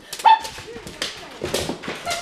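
Stubborn dog whimpering, with a short high whine near the start followed by soft yips and whimpers, mixed with voices talking close by.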